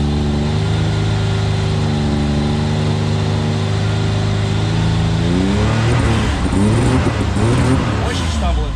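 A car engine on a cold morning idles steadily, then revs up to around 3,000 RPM and stumbles unevenly as it climbs, loud and close throughout, with no talk over it.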